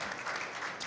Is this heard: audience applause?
yes